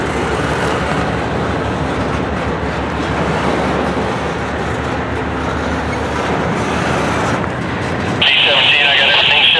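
NS freight train V07-08, led by locomotive 4055, pulls slowly off the Commonwealth with a steady, heavy rumble and grinding roar, joined near the end by a higher, hissing squeal.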